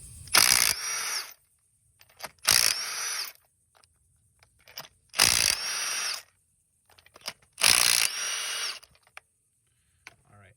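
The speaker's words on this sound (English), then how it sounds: "I think pulling spark plugs out with power tools is totally safe." Four short bursts of a power tool whirring as it removes spark plugs from a Chevy Volt or Cruze engine, each about a second long, separated by brief pauses, close and loud.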